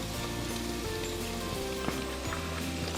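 Oil heats in a hot pan while cooking chicken keema pulao, giving a continuous crackling sizzle that holds steady and fairly close throughout.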